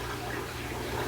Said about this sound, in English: Okay, water's going back in.